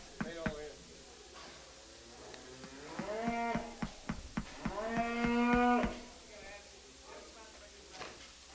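Cattle bellow repeatedly at a feeder calf auction, several drawn-out moos rising over a backdrop of sharp knocks and clatter, with an auctioneer's voice faint in the ring.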